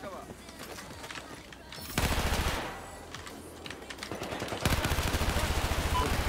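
Rapid automatic gunfire erupts in Battlefield 4 gameplay in two dense bursts, first a short one and then a longer rattling stream, over quieter background action, while a player talks faintly.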